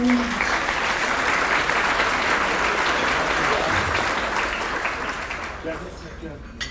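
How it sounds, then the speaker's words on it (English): Sustained applause from the audience at a keynote speaker event for Serene Harbor Purses with a Purpose, a dense, steady wash of many clapping hands that gradually fades toward the end. "Give yourselves a round of applause."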